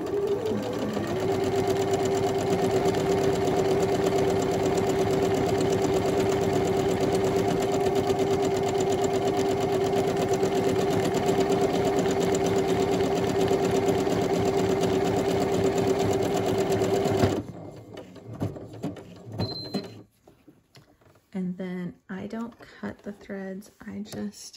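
A sewing machine stitches a buttonhole with a buttonhole foot, a loud, steady mechanical whir with a sustained tone for about seventeen seconds, then stopping abruptly, followed by a few clicks and light handling sounds.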